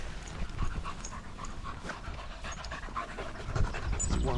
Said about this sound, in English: Ted, you're panting away as well, buddy.